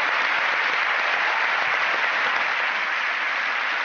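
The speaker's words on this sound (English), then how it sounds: "The Blue Team, everybody. Give them a round of applause." A studio audience claps for the Blue Team on a comedy sports panel show, a steady, even wash of applause that holds at full strength throughout with no voices over it.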